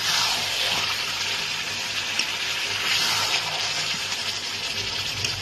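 Hot water poured into a pot of chicken curry with potatoes, a continuous close gushing splash that holds steady for several seconds, no voices.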